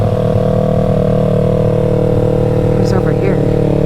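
Motorcycle on a night ride, its engine a loud, close, steady drone with a shift in pitch near the end as it downshifts, and someone speaking over the engine noise.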